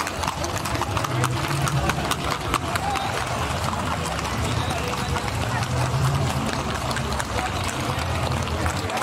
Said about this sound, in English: She's an albino horse.